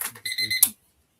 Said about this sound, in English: That's my second timer.